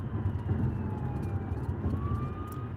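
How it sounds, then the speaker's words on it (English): A police car siren winds up during a high-speed chase, a thin wailing tone rising and falling faintly over a low engine and road rumble. "the siren's starting now"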